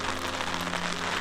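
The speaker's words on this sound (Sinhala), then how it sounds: "පොඩි වර්ෂාපතනිකුත් යනවා" Light rain falls steadily on the Horton Plains trail, a soft continuous patter with no pauses and no voices over it.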